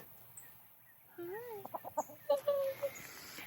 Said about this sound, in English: So these roosters, I call them Hank Williams.